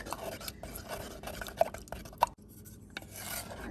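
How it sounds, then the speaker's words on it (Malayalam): Banana buttermilk curry (pazham pulissery) is stirred in a hot pot, with soft rubbing and scraping strokes and a couple of brief utensil clicks, fairly quiet and without talk. "എന്നിട്ട് നന്നായിട്ട് ഇളക്കി കൊടുക്കുക."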